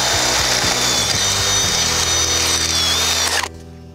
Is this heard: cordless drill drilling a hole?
yes